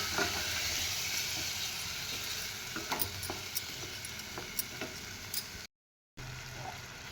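A curd and potato curry cooks in a pan as it is stirred, giving a soft, steady sizzle and occasional light utensil taps against the pan. The sound is fairly faint and continuous, with a brief gap of silence near the end.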